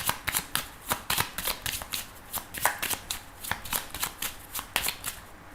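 A 32-card deck is riffled and shuffled in a rapid run of crisp, close card flutters, about two dozen sharp bursts in a steady rhythm with no talking.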